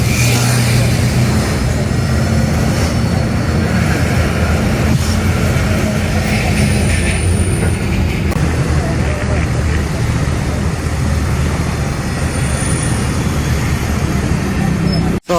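Inside a moving city bus in Escazú, Costa Rica, a loud, continuous engine rumble and road noise drone steadily throughout, with faint high whines now and then.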